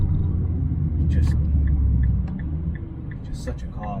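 A deep, throaty Nissan GT-R R35 engine rumbles steadily at idle, loud and close, with a few faint clicks above it.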